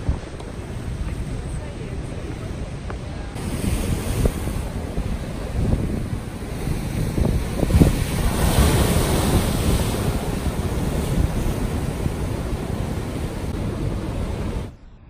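Strong seaside wind in Malta buffets the microphone with a constant roaring rush, blending with the wash of surf and swelling in gusts over about fifteen seconds.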